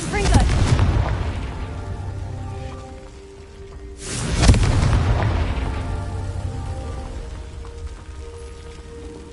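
Two heavy booming blasts from a Confringo fire spell in the Hogwarts Legacy game, one at the start and another around the midpoint, each with a long rumbling decay over a low background score.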